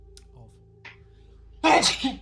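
A single sharp sneeze bursts out near the end, loud and close, during a tabletop Dungeons & Dragons 5th edition session, with faint background murmur before it.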